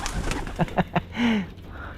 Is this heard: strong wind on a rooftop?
no